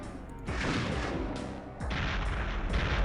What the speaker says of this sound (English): shoot a grenade low to the ground, right at the base of the pillar, and then one a little higher up